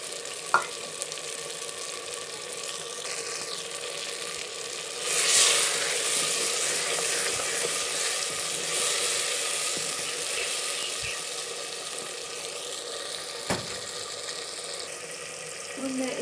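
Ginger-garlic paste sizzling in a hot pan, a constant soft frying hiss with a brief louder burst and a few clinks of stirring.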